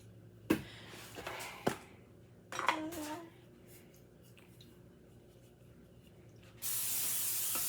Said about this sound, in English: Give it a good spray so it don't stick.